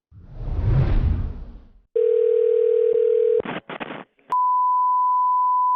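A telephone call goes out to a coin shop: after a loud whoosh comes a steady dial tone, then quick clicks and bursts of dialing, then a loud steady ringback or line tone held to the end, with no talking.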